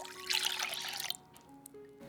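Lukewarm water pours into a bowl in a short trickling splash for about a second, then fades to a quiet room with faint drips and small clicks.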